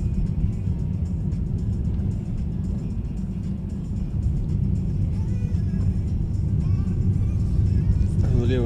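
Car driving on a road, a continuous low engine and tire rumble from inside the vehicle, with a person talking over it.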